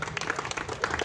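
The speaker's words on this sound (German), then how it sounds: "ich glaube, das ist ein Applaus wert" A brief burst of applause from guests at a silver wedding anniversary celebration, a dense patter of many hands clapping at moderate volume.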